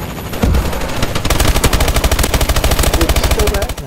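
Rapid automatic gunfire from a multiplayer shooter video game, a sustained loud burst of evenly spaced shots running almost the whole stretch after a brief lead-in.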